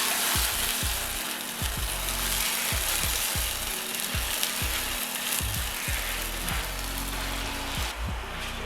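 Garlic and whole dried red chillies fry in hot tempering oil for masala khichdi at a roadside dhaba, sizzling densely and continuously up close, with occasional stirring clinks over a low background rumble and no talk.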